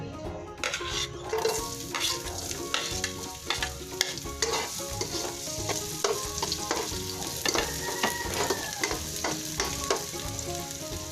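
Garlic frying in a pan while cooking garlic butter shrimp: steady close sizzling with repeated stirring scrapes and light clinks of utensil against the pan throughout.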